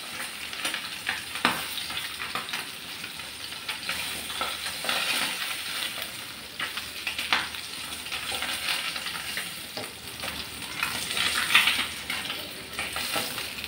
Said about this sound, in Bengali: এভাবে সবগুলো মাছ ভেজে নেব